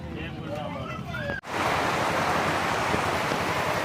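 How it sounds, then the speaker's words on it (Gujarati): Heavy rain pours down on an open clothing market in Manjalpur. Voices come first, then a sudden dense, steady roar of downpour drowns everything, loud and close. "આ વરસાદ બહુ જ ફાસ્ટ પડી ગયો"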